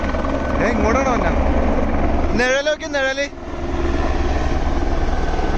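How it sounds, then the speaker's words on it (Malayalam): A helicopter flies through the Himalayan Everest region between Tengboche and Dingboche, its rotor whir loud and sustained while people talk nearby, the sound easing off toward the end. "എടാ ഹെലികോപ്റ്ററാണ്"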